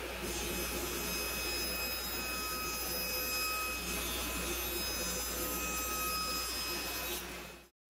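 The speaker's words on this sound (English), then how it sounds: "then cut using a taper jig and stop blocks on the table saw" Table saw cutting soft maple tapers with a taper jig and stop blocks, a steady, loud whining roar of blade and motor held for several seconds before cutting off abruptly.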